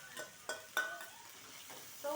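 Onions and masala being stirred together in hot oil, heard as a series of brisk scraping spoon strokes against the pan over a soft frying sizzle, fairly quiet and close.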